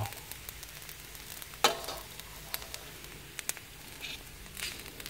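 Fried rice with sator stink beans sizzling in a pan, a steady crackling fry with occasional louder scrapes and stirs, close and moderately loud.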